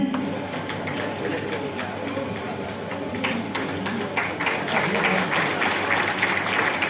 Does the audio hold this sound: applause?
yes